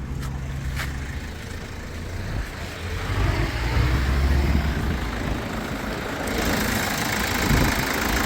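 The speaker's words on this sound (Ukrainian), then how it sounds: "Чиста робота двигуна, ніде нічого не капає" A seven-seat crossover's car engine idles steadily with a low rumbling hum, growing slightly louder midway, with no voices.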